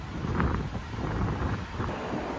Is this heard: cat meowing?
no